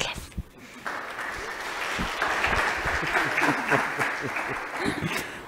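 A church congregation claps together in sustained applause, with the clapping swelling after a brief start and staying loud and even, with a voice briefly audible at the beginning.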